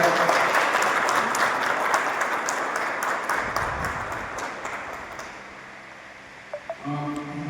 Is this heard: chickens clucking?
no